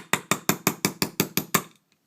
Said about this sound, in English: take just a little bitty ball peen hammer and just tap it right down